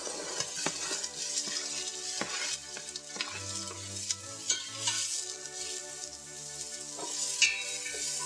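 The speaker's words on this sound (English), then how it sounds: "we're gonna saute the onion and the garlic until it's just tender" Onion and garlic sautéing in olive oil in a pan, with a steady bright sizzle running throughout and occasional stirring scrapes and utensil knocks against the pan.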